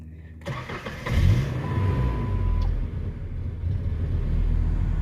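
A 1998 Ford Ranger engine cranks briefly and catches, then settles into a steady, close running idle that continues to the end.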